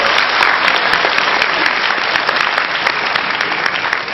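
A debate audience claps in sustained, dense applause, loud and even throughout with no voices rising above it.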